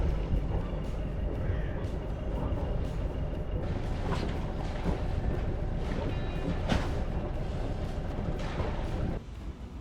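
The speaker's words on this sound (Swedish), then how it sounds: "Sista tåget innan broöppningen." A train rolls across the railway bridge over the Limfjord before the bridge opens, a steady low rumble with scattered clanks and knocks, heard from a nearby sailboat at moderate distance.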